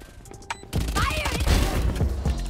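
A burst of gunfire erupts in a competitive Valorant match, loud overlapping shots starting abruptly after a quieter moment and continuing densely, with a voice briefly heard beneath.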